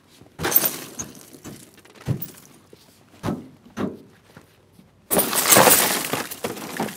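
Firefighters break the glass of a car lying on its side during a vehicle extrication drill: several sharp knocks and cracks, then a loud sustained shatter as the window gives way.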